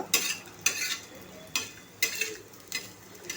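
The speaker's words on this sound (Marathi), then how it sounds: "छान असं थोडंसं 2 मिनटं परतून घेऊया आपण हे खोबरं" Grated coconut is stir-roasted in a pan, with a spatula scraping it in about six sharp, regular strokes over a soft dry sizzle, close and alone.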